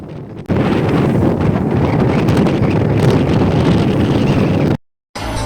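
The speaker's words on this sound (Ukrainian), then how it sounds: "наш корабель попав в якусь турбулентність, вітер синий, хвилі такі, що вже можуть похитати корабель" Strong wind buffets the deck of a ship in rough, turbulent sea, with waves rolling beneath; a loud, steady roar of gusts hitting the microphone fills the whole stretch, dropping briefly to near silence before returning.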